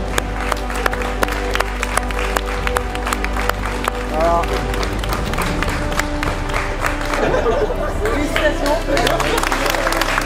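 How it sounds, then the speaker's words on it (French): An audience at a women's self-defence introductory course applauds the organisers, sharp hand claps from a smallish crowd running steadily throughout, with a voice speaking briefly over the clapping. "où on peut les applaudir."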